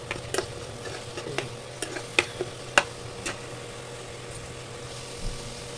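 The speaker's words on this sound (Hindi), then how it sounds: "एक चम्मच हल्दी पाउडर, एक चम्मच कश्मीरी लाल मिर्च, एक चम्मच धनिया पाउडर, और इन सारे मसालों को हम ऐसे ही पका लेते हैं" Turmeric powder, Kashmiri red chili and coriander powder cook in oil for a spiced snake gourd curry. A faint, low sizzle runs under sharp spoon clicks and scrapes scattered through the clip, with no talking.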